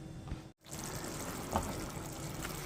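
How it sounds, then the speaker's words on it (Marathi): Water pours and trickles into a kadhai of cooking stuffed brinjal and onion with a steady liquid splash, interrupted by a brief silent gap and a small clink. "थोडंसं पाणी घातलं आहे"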